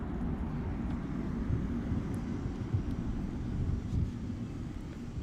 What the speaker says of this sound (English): there's our QJet 717 now taxiing along here